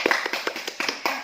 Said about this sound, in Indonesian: Coba kita kasih tepuk tangan terlebih dahulu.